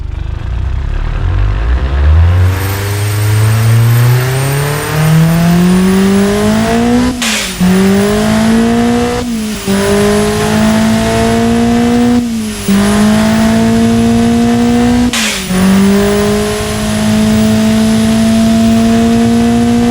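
A 320 HP turbo hatchback running nearly 30 psi of boost cranks, fires and settles, then is revved hard four times. Each rev brings a rising engine howl, loud and close, with no talking.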